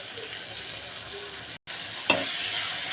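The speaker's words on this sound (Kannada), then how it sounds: "ಇದು ಚೆನ್ನಾಗಿ ಮಿಕ್ಸ್ ಮಾಡಬೇಕು." Chilli powder stirred into liver gravy frying in a pan. A close, continuous sizzle runs under a spoon scraping and mixing, and one brief gap of silence breaks it partway. No voices.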